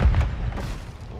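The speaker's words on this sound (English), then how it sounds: "Hostile airstrike near your location." A hostile airstrike explosion in a multiplayer video game: a loud, deep boom with heavy low rumble at the start, decaying into a rolling, debris-like tail over a second.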